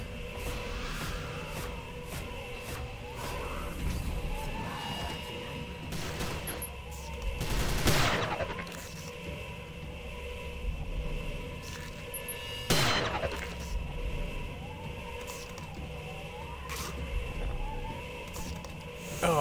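Sniper rifle shots in the 2006 shooter Prey, two sharp loud cracks several seconds apart over a steady droning game ambience, with no talking.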